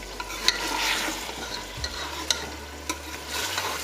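Beef keema with tomatoes frying in a pan as it is stirred, with steady sizzling and scraping spoon strokes, close and moderately loud with no talking.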